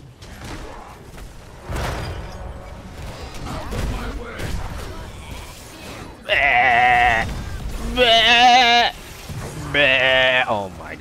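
Video game sheep bleats ring out three times in a row, loud and wavering, following a stretch of busy game sounds with thumps and a player talking over them.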